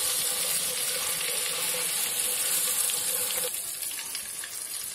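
Butter and a little oil sizzle steadily in a hot pan while baked pasta is being prepared, a continuous close hiss that drops slightly in level near the end.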